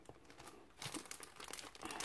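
Plastic packaging of a craft kit being handled and opened, a close, quiet run of crinkling and crackling that grows busier after the first second.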